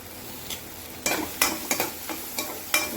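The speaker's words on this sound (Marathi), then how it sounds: "जिरा मोहरी झाली की त्याच्यात मिरची लसूण पेस्ट, कांदा" Onion with chili-garlic paste frying in a pan after cumin and mustard seeds, a steady soft sizzle broken by several sharp scraping stirs of a spoon against the pan, close and without talk.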